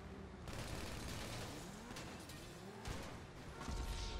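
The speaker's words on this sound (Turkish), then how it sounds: "Abi ben Deagle'la sıkıyorum." Rapid pistol fire from a Desert Eagle in GTA 5, loud and dense with overlapping bursts and crashes across the whole stretch, with no clear gaps between shots.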